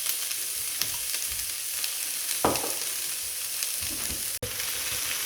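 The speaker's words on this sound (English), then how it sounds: "So I'm just going to cook this through for about a minute, just to start getting the onions soft." Diced onions and minced garlic sizzle steadily in a hot pan, a close, continuous frying hiss with occasional stirring scrapes and one sharp clack.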